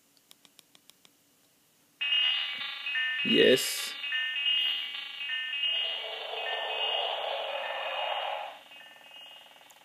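Tinny electronic game tones and sound effects from a Sonic video game on a Nokia phone console start after a few faint clicks, with a short shouted game voice partway through, continuing steadily.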